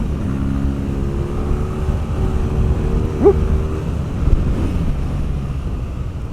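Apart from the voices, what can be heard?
BMW R nineT Pure motorcycle engine revving, restricted A2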